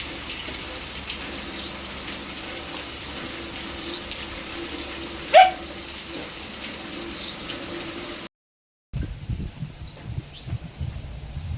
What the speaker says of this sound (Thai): ทั้งลม ทั้งลมทั้งฝน